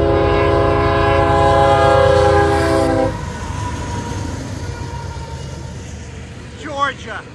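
Freight train M409, running Selkirk to Waycross, rolls past close by with a loud sustained horn blast for about three seconds, then the rumble and clatter of passing cars continues.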